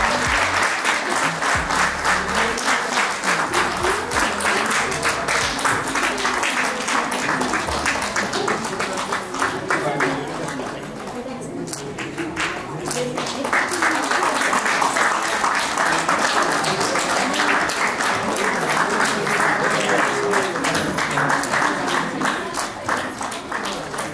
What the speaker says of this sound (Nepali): जोरदार सबैजना ताली बजाइदिनु होला। तालीले साथ दिनु होला।